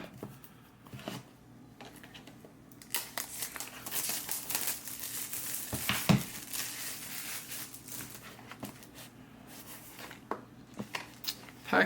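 Knife slicing open the packaging of a cycling computer head unit while unboxing, with soft crinkling, scraping and tearing of cardboard and plastic heard close and fairly quiet throughout.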